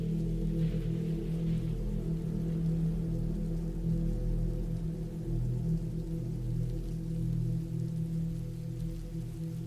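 Steady rain falling outside a woods cabin, a continuous low, dense wash that holds at an even level throughout with no pauses, alone and without voices.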